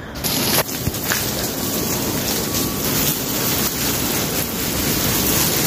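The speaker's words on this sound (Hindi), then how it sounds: "अभी लगाते हैं पौधों को पानी।" Water sprays steadily from a hose onto garden plants, including a lemon tree, as a continuous close broadband hiss with no talking.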